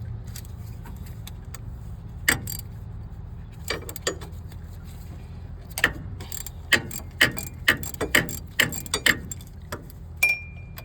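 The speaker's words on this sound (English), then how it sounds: "now to remove the water pump, it is 4 bolts, four 14mm bolts" A ratchet works loose the 14mm water pump bolts on a Cummins ISX engine, sparse metallic clicks and clacks with clustered ratcheting taps, close and moderately loud over a low background hum, no talk.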